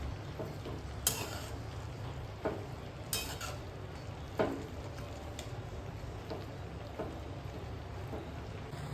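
Cabbage bhaji with spices is stirred in a pan, a spatula scraping and clicking against the metal in scattered strokes over a soft, steady sizzle.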